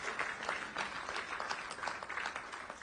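Steady applause from a crowd at a political stage event as C. R. Patil is welcomed, sustained clapping that keeps going evenly throughout with no break.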